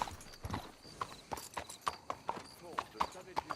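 Horse hooves clip-clop at a steady walking rhythm in Red Dead Redemption 2, crisp and close, with voices talking over the hoofbeats.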